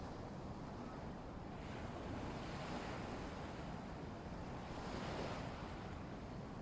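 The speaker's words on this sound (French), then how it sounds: "Chaque petite vague vient doucement embrasser le rivage, puis repart lentement, sans bruit, sans urgence." Gentle ocean waves lap softly at the shore of a calm lagoon beach at night. The wash is a faint, steady, distant hiss that swells slightly now and then, with no voices.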